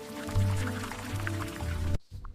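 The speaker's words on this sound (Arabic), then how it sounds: "زي لما بنسيب الحنفية مفتوحة" Steady water streaming from a tap, a continuous splashing rush with drips, cutting off abruptly near the end.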